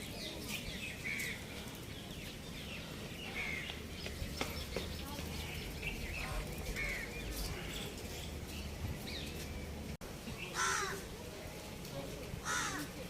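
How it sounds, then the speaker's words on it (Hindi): Birds call repeatedly around Sabarmati Ashram in Gujarat, mostly crow-like caws spaced every second or two over a steady outdoor murmur, with a louder burst of calls near the end. "पक्षी चहचहा रहे हैं"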